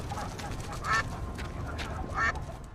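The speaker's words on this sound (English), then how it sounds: "And then Ziggy sees this duck." A duck with clipped wings gives two short, faint quacks about a second apart against a low background murmur, without clear speech.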